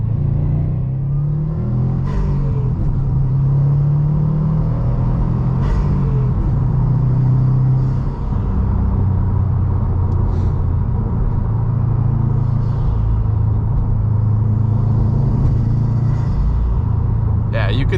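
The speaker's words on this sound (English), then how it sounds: "I'm going to test out the acceleration a little bit" A 2020 Subaru WRX STI Limited accelerates in second gear in sport sharp mode, its engine note rising and droning steadily from inside the cabin for the whole stretch, loud and continuous with road rumble beneath.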